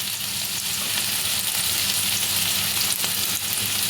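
Veg noodles seasoned with salt and ground pepper being stirred in a frying pan, a loud continuous sizzle with faint scraping, close and steady throughout.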